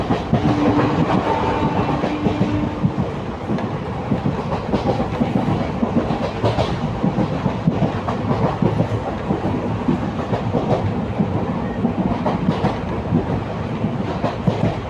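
Kalka-Ambala Cantt passenger train running on rails as it nears Chandi Mandir station, continuous loud rumble with clickety-clack wheel beats throughout, no talking.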